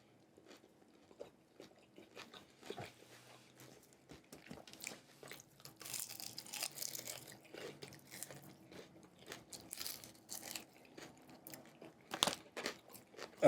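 Crunchy bites and chewing on well-done Wingstop Hot Honey Rub chicken wings, close and fairly quiet, with repeated crisp crunches that grow louder toward the end.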